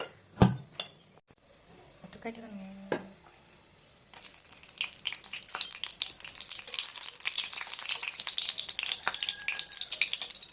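Leafy greens poured into a hot pan burst into loud, steady crackling sizzle that carries on to the end, after a few sharp knocks and clatters at the start.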